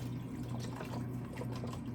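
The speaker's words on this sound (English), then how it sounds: "So we're going to pour our vegetable broth in here." Organic low-sodium vegetable broth pours into a soup pot with a steady, quiet liquid gush and faint splashing, with no talk.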